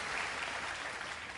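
Campaign rally audience in Michigan clapping, a brief dense burst of applause at moderate level with no speech over it.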